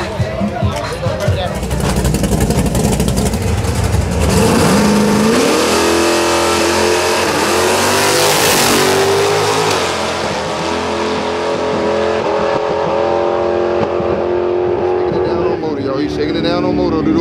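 A drag race car with a Baby Big Block engine revs loud and close at a drag strip, rising and falling roars sustained over crowd chatter and talk.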